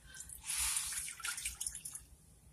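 About a cup of water poured into a cooking pot for steamed collard greens, a short, quiet splashing trickle lasting a second or two and then trailing into faint drips.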